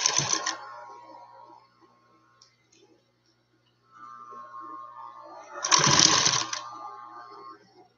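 A high speed sewing machine runs in two bursts, a fast mechanical whir with sharp ticking, first briefly at the start and then longer after a quiet gap, close and clear.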